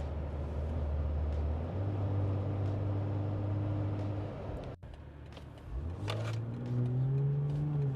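A BMW 840i with catless downpipe and catback exhaust, exhaust valves open, idles with a deep steady rumble, then is blipped and revved, its pitch rising and falling loudly near the car.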